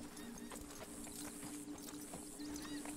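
A big Shire-type horse in Red Dead Redemption 2 clip-clops steadily at a walk. The quiet hoofbeats are close and evenly spaced over a low, constant game hum, with no speech.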